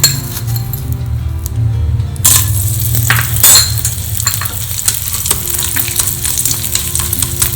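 Loud, continuous sizzling of sago pearls frying in hot ghee, with occasional metallic clinks of stirring against the pan.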